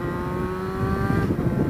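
A motorcycle engine revs close by, a steady droning tone that rises slightly toward the end, heard alone with no talking.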